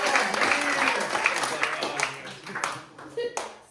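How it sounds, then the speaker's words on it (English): A small family audience at a 50th wedding anniversary magic show claps, strongly at first and then tapering into a few scattered claps, with voices talking over it. "So a big round of applause for"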